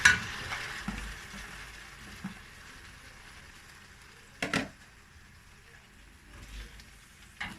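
Low, quiet sizzling of pickled beans frying with onions in a pan, with occasional scraping and clinks as it is stirred, plus a brief sharp clatter midway.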